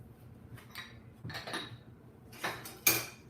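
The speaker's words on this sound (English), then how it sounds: "Give it a little stir." A utensil stirs food in a dish of smothered pork chop, giving a few separate clinks and scrapes against the dish, close and fairly quiet, with a sharper knock near the end.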